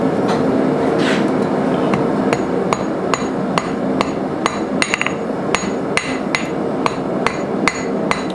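A blacksmith hammers thin hot steel into the point of a letter opener sword, loud ringing metal strikes landing in a steady rhythm, roughly one every half second, close by over a constant roar of forge background noise.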